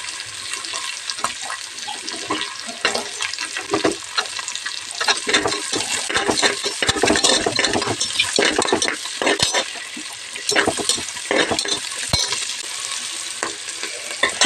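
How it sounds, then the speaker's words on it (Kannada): Chopped onions frying in a pan for a country-chicken egg biryani: a loud, dense sizzle with frequent sharp crackles and the scrape and clatter of stirring, with no voice over it. "ಇವಾಗ ಕಟ್ ಮಾಡಿರೋಂಥ ಈರುಳ್ಳಿನ ಹಾಕ್ಕೊಂಡು ಫ್ರೈ ಮಾಡ್ಕೊಳ್ತೀನಿ"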